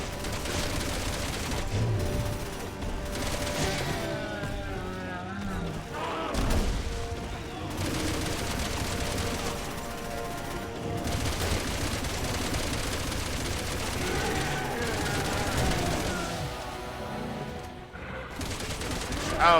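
Gunfire in Resident Evil 6, aimed at a creature's umbilical cord, comes as dense shooting and bursts mixed with game effects and music that keep going for the whole stretch.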